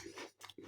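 A crisp digestive biscuit topped with custard crunches in two quick, close bites, quiet and alone without any talk.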